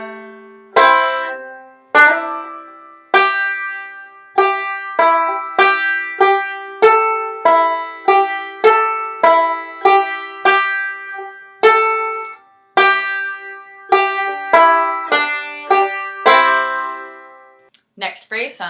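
Banjo playing phrases of Kansas City Railroad Blues, a steady stream of bright plucked notes with quick decays and a regular rhythm, loud and close, without any talking.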